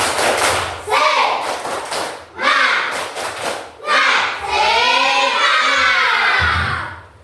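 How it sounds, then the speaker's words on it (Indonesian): A classroom of children doing the rhythmic spirit clap (tepuk semangat), clustered claps in short bursts mixed with loud shouting and chanting voices, close and energetic. "Tepuk semangat dulu sekali lagi."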